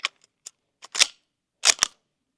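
A suppressed bolt-action .300 Blackout rifle firing AAC 220-grain open tip match rounds, giving sharp muffled cracks with short clicks between them, including a close pair of louder reports near the end.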